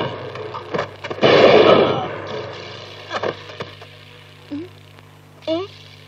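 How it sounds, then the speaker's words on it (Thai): Sharp gunshots crack out, a louder blast followed by scattered single reports at intervals, mixed with voices in a Thai action film from 1986. "ข้ามาได้ยินเสียงปืนแล้ว"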